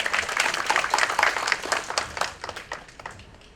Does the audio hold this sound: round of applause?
yes